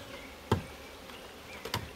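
Faint, low buzzing of honeybees on brood comb during a hive split, in a quiet setting, broken by two soft taps.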